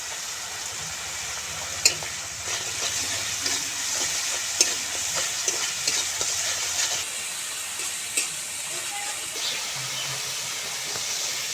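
Spices with salt and a little sugar are stirred and fried in oil for a pumpkin curry, giving a continuous close sizzle broken by occasional sharp scrapes and clinks of the spoon against the pan.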